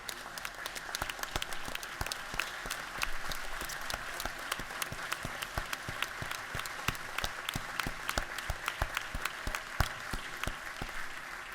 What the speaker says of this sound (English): maybe we can give them and our folks up here on the podium a round of applause